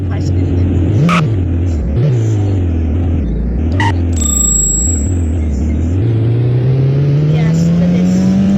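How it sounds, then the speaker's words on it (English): A car accelerates along a road in Indonesia, a steady interior engine drone that rises in pitch toward the end, with faint rattles and clicks. "So much acceleration in my car."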